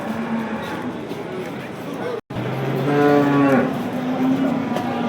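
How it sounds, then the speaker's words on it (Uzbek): Cattle low loudly at a livestock market in Bo'stonliq district, with a long, drawn-out moo rising after a brief cut and people talking nearby throughout. "Mana sigirlar."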